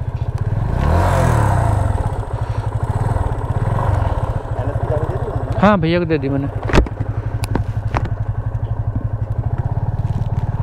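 Yamaha FZ250 and Husqvarna Vitpilen 250 motorcycles idle close by at a drag race, a steady low engine throb with a brief rev and clatter midway, running under someone talking.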